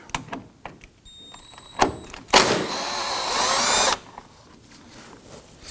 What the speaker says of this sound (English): We're going to use our impact driver here to go ahead and loosen and remove these.